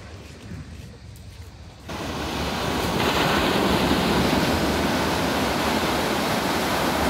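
Ocean surf breaking on the shore at Hayama, Japan, reached by a path from a museum's seaside exit. A softer wash swells into a loud, continuous roar of waves mixed with wind buffeting the microphone.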